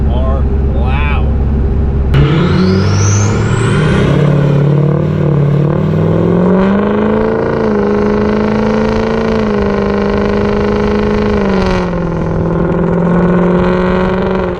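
A Ford Super Duty truck's 7.3 Powerstroke diesel engine runs with a steady, droning rumble that rises slightly as it picks up, while someone talks over it at a normal volume.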